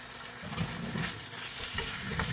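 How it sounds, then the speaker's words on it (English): Ground meat sizzling in melted butter in a pan for tacos, stirred with steady scraping and a continuous crackling fry throughout, close and fairly loud, with no talking. "now I'm gonna mix up the meat with the butter so that it can get nice and cooked"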